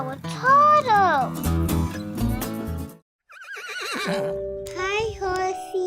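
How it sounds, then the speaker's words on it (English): A horse at a farm gives a loud, close whinny at the start, with children's voices and other sounds around it and a brief pause midway. "You are a very big horse."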